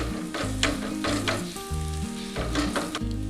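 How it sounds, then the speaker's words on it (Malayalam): Cooked jackfruit heating in a pan for jackfruit payasam, giving a steady close sizzle with soft stirring scrapes and a low background hum, no voices. "ഇനി ഇതൊന്ന് ചക്ക ഇതിലൊന്ന് ചൂടാകട്ടെ"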